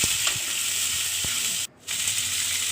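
Chilli idli pieces sizzle steadily in hot oil in a pan, a continuous bright frying hiss with a few soft stirring clicks and a brief drop to near silence partway through.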